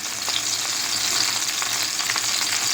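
Fish frying in mustard oil over a low flame makes a dense, continuous sizzle, loud and close, with faint crackles in the hiss and no voices.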